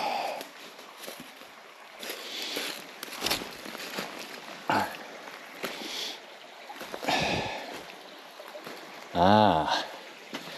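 A small natural spring along a hiking trail in Turkey trickles softly in the background while someone talks over it in short bursts, with occasional louder splashy noises.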